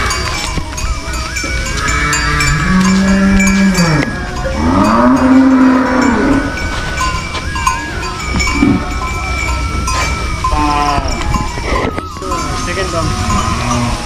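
Cattle at a cowshed in Butwal, Tilottama, Nepal, lowing loudly in several long rising and falling moos close by, with cowbells and other animal sounds clanking throughout.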